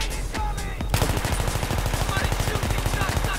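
Rapid automatic gunfire from covering fire in the video game Battlefield 3, a steady string of loud, evenly spaced shots running from about one second on to the end, with faint game sounds before it.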